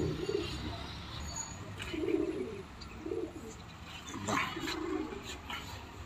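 Madrasi breed pigeons coo in a loft, soft repeated throaty phrases at a steady rhythm, fairly close, with some faint chirps and low background noise.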